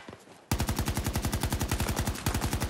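Rapid automatic assault rifle fire in the Battlefield shooter, a steady close burst of evenly spaced shots that starts abruptly after a quiet moment, briefly breaks, then resumes.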